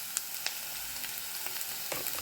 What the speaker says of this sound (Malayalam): മഞ്ഞളിട്ട് എടുത്ത് നല്ലോണം ഇളക്കുക.